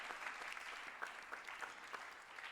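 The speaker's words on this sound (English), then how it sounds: "Let's give God a clap" Applause breaks out at a Brown v. Board program in St. Petersburg, Florida, a steady wash of clapping hands from a seated audience, with a few sharper individual claps poking out above the crowd.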